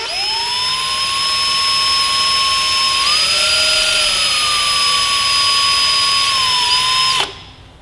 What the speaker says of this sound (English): I'm going to drill this angular.